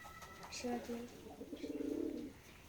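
Pigeons on a farm keeping white birds and pouters give a few quiet, throaty coos in short bursts, close by but soft, with a rolling coo near the end.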